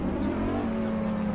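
A 2006 Formula 1 2.4-litre V8 in the Assetto Corsa racing game holds a high, steady whining drone at sustained revs, with a faint buzzy tone above it, continuous and close, without speech.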